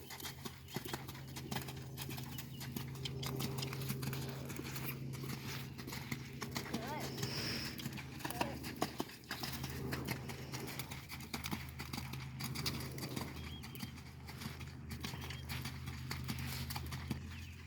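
Steady rhythmic hoofbeats of a horse cantering circles in a schooling session, faint and continuous under a person talking throughout.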